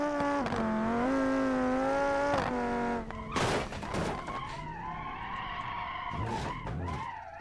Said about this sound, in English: you can hear the kind of the crackles with the exhaust